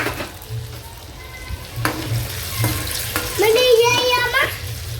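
Homemade French fries sizzle in hot oil in a family kitchen, a steady bubbling hiss with clatters and a few brief bursts of talk and a voice over it.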